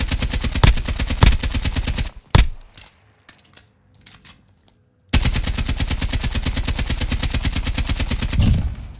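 An AK rifle fires in Call of Duty Modern Warfare Warzone, with rapid automatic bursts, a few single loud shots, a near-silent gap, then a long sustained burst of close, loud gunfire.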